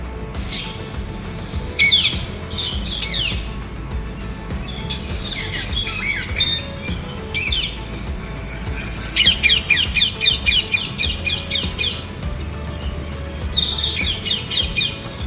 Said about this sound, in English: First is parrot.